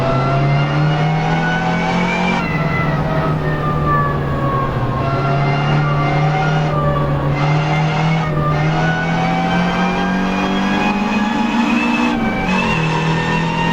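Race car engine in the Assetto Corsa video game lapping Donington Park National Circuit, a loud continuous drone whose pitch rises and falls through gear changes and corners, with a brief dip near the end and no talk.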